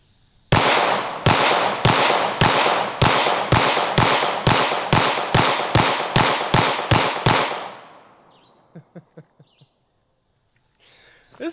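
Rapid gunshots fired one after another into cheap soft body armor, about fifteen sharp loud cracks in an even rhythm over several seconds, then a few fainter clicks and quiet afterward.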